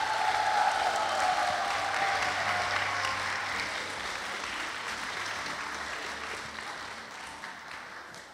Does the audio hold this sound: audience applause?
yes